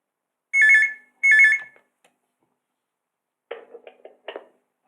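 Two loud ringing bursts from a telephone, a quick double ring, then a pause and a few fainter knocking clicks, with no talk over them.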